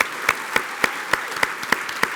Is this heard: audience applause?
yes